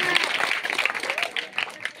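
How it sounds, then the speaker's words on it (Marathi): Applause for students at an essay-writing competition, a short burst of crowd clapping, dense and fairly close, lasting about two seconds with voices mixed in. "जोरदार टाळ्या होईल या विद्यार्थ्यांसाठी."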